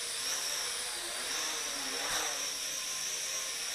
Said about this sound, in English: I'm not moving the throttle at all, and it's doing that, like, pulsing.